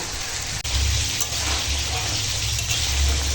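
Water poured into a pan of vegetables long-fried in spices, setting off a loud, steady, close sizzle and bubbling hiss that continues unbroken with no talk.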